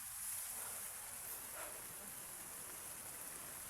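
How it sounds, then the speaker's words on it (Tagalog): Heavy, steady rain pours down outdoors as a storm builds, a dense, unbroken wash of hiss that fills the scene at a constant level, with no voices over it. "Kasi yung ulan lumalakas."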